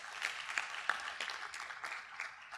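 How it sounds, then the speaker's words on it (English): A crowd applauds a guest chef at a talk on healthy eating, scattered, fairly faint clapping with irregular sharp claps across the whole moment. "So please give him a round of applause."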